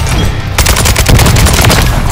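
Loud, close automatic gunfire in Call of Duty Modern Warfare 3 during a hardpoint match: a rapid string of sharp cracks after a short lull, fired in a fast steady rhythm.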